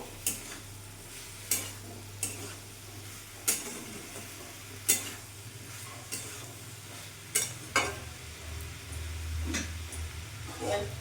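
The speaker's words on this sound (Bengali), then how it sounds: "এবার এটা পুরোটা দিয়ে দেবো সবগুলো ভালো করে মিশিয়ে নেবো" Fried soybean chunks are stirred into a curry in a pan, with a spatula scraping in regular, distinct strokes about once a second over a gentle background sizzle.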